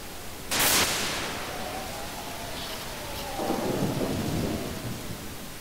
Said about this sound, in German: diese Blitze sind Wahnsinn